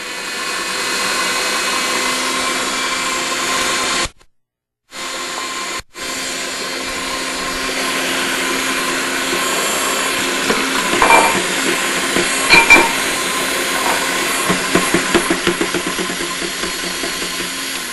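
A food processor whirs steadily as it blends canned mango nectar into a fruit soup, a continuous loud motor drone that cuts out briefly, then resumes with some rattling bursts near the end.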